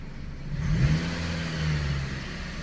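Chrysler 200 engine, limp mode with fault code P2173, revving as the throttle is snapped, a short rise in pitch then a slow, drawn-out fall back toward idle.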